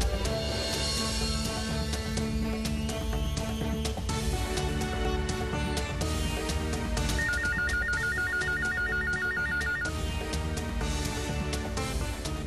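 A telephone ringing in an Indian television serial scene: a repeating electronic ring tone heard over loud background music, pulsing for a few seconds midway through.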